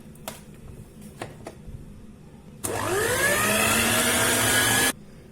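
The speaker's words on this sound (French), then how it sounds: "Et je vais continuer de fouetter jusqu'à ce que je ne vois plus les œufs." An electric mixer whisks butter, sugar and two egg yolks together. A few faint clinks come first, then the motor starts with a rising whine and runs steadily for a couple of seconds before cutting off abruptly.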